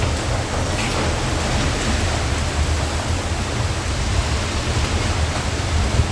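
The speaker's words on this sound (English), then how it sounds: "It's absolutely pouring. It's like a tornado almost." Heavy rain pours down in a violent storm with strong wind, a dense, steady roar that stays loud and close without a break and with no talking.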